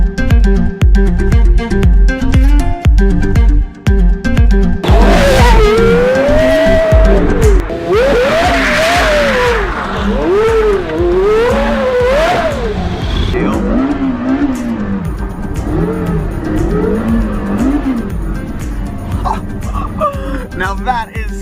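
A Porsche Carrera GT drifts on a mountain road, its engine screaming high and revving in rising and falling sweeps while the tires squeal, loud and close, with excited voices partly under it.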